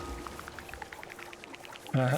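Water pouring in the video game Terra Nil, a light run of bubbly droplet plinks that swells into a louder gush at the end.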